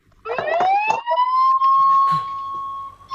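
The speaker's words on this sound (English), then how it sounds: "Ambulance, that is artificial sound." An ambulance siren, played in a classroom sound-identification lesson, sweeps upward into a sustained steady wail, clear and fairly loud.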